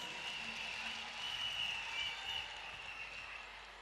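An audience applauding at the ÉPELLE-MOI 2016 spelling competition final, a steady wash of clapping at moderate volume from a crowd, sustained evenly without pause.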